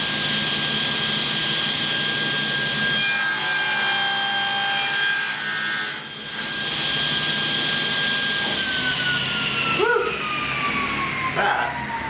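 A saw cuts through a wood board set against a stop block, a loud continuous whining, rasping cut lasting several seconds, with the motor tone dropping as the blade finishes.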